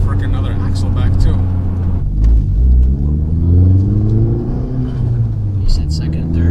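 A Fiat 500 Abarth accelerating on the road, its low engine drone rising in pitch as it pulls through the gears, with muted burbles and people talking over it inside the car.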